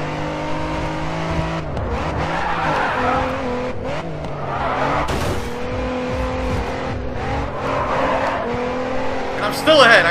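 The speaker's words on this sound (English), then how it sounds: "I wrecked my car" Racing car engine in the game GRID 2 roaring continuously, with tires squealing and skidding mid-race and a couple of sharp impact bursts from a wreck, while a voice speaks over the engine noise.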